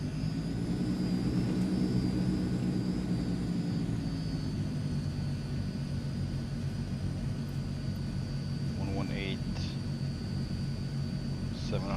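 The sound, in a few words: Transall C160 propeller aircraft taxiing out, from video game Microsoft Flight Simulator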